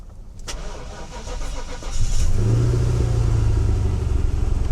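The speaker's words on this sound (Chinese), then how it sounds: "大哥来关掉引擎， 再来重新发动" A rebuilt Mercedes W126 560SEL V8 cranks and fires, the starter whirring briefly before the engine catches and settles into a loud, steady idle close by.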